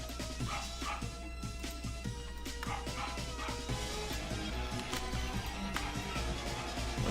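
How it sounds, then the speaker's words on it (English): A pet dog barks repeatedly indoors during a Blender modeling stream, with short, sharp yips and woofs at an irregular pace, fairly distant and under a constant low hum. "What's my dog barking about?"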